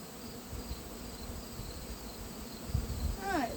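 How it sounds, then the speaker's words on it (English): Bees buzz quietly nearby at a hive, a soft, wavering drone with occasional louder passes as individual insects fly close. "Alright, so there's some bees there."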